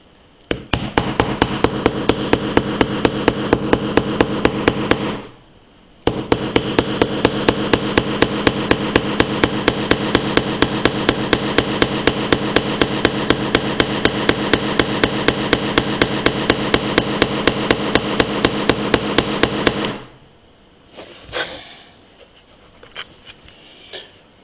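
A hammer strikes nails into an Oukitel K4000 phone in a long, rapid, evenly spaced run of loud metallic blows, briefly pausing, then hammering on for about fifteen seconds before stopping with a few scattered knocks.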